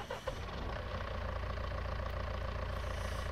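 A John Deere 6110M-series tractor engine idles steadily in Farming Simulator 19, a continuous low, even rumble that holds at a constant level throughout with no talk over it.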